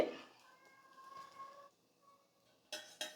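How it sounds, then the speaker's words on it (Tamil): A cat meows repeatedly from outdoors behind the house near the kitchen, the cries faint and distant, followed by a couple of brief kitchen clatters. "எங்கள் வீட்டுக்கு பின்னாடி வந்து பூனை கத்துதுன்னு நினைக்கிறேன்ல"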